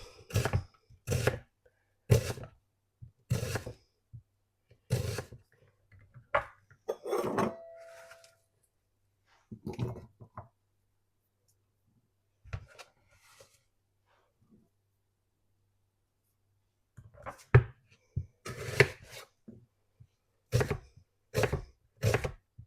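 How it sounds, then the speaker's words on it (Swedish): Onion sliced with a knife on a cutting board, crisp regular chops in quick rhythmic runs, close and clear, separated by quiet pauses and a longer silent stretch midway. "Och då ska vi bara skiva den."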